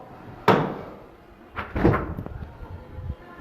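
Doors into the roller department of a factory unit swing and bang shut, a sharp clunk followed a second later by a rattling double thud, with quiet room hum in between.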